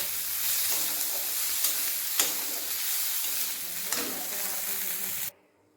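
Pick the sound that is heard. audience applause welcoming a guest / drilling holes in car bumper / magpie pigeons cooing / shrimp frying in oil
shrimp frying in oil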